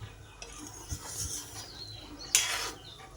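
A spoon gently stirs mixed vegetables cooking in a pot, making soft scraping and rubbing sounds with occasional light knocks and one brighter clink, close and quiet.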